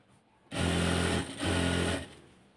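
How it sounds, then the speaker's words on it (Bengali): Sewing machine stitching piping onto the side seam of a kameez, two close, loud bursts of rapid whirring stitching separated by a brief slowdown, then stopping. "এক পাশ থেকে ধরে পুরাটাই ঘুরিয়ে ঘুরিয়ে আমি সেলাইটা দিব।"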